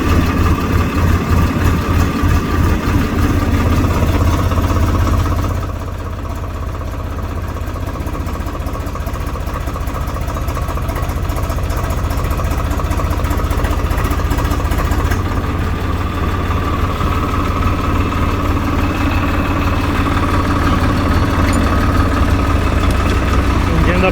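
A Swaraj 855 tractor engine in first gear, not revved, holding a steady low, close diesel throb for the whole stretch while a voice talks over it at times.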